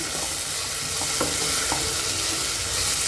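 Tomato masala for a meatless fish-style curry sautés in a pan, a constant close hiss of frying with a few soft spoon scrapes and taps, and no voices.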